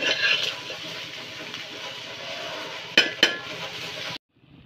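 A utensil scrapes and clinks against a pan as okra stir-fry for vendaikaai poriyal is stirred gently, with a couple of sharper metallic knocks near the end before the sound stops.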